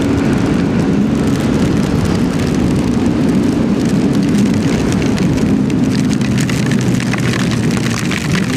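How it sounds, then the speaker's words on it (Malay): Heavy rain pours down in a loud, unbroken hiss during a rainy ride to a cafe, with a low rumble underneath and no talking. "Hujan lebat kan?"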